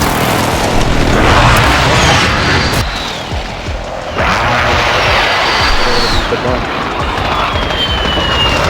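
Airstrike explosions in Call of Duty Modern Warfare during a capture the flag match, loud booming blasts with rumbling debris and crackle, mixed with gunfire and game noise under talk.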